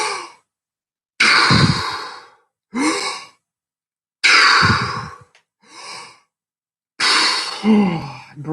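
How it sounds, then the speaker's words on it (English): Strong recovery breaths after a long static apnea breath-hold: a series of loud, close, forceful inhales and exhales in uneven bursts separated by short pauses, with no talking. "ready for strong recovery breaths at the end of this"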